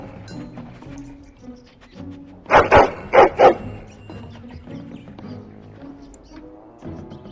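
A hound in the fantasy video game Dragon Age: Origins, inside Castle Cousland, gives a quick burst of three or four loud barks mid-clip, with quiet game ambience before and after.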